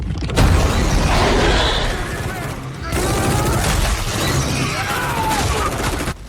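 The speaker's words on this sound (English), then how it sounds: "A sudden rumble came from the floor beneath the Special Forces soldier's feet." Sudden rumbling from the floor beneath a soldier's feet in an action scene, a loud, dense roar with crackling bursts that cuts off briefly then resumes, like blasts and gunfire mixed together.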